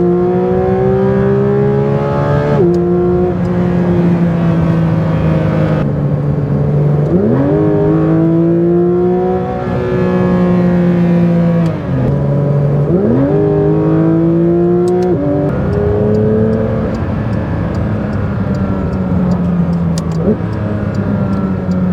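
A 2024 Porsche 992 GT3 RS engine revs hard through repeated upshifts on the Autobahn, each gear climbing in pitch then dropping, loud and close throughout.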